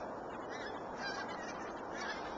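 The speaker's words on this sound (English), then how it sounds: "It's a great skein of ducks going over here." A skein of ducks honking as they fly overhead outdoors, a dense, continuous chorus of overlapping honks at moderate distance with no talk.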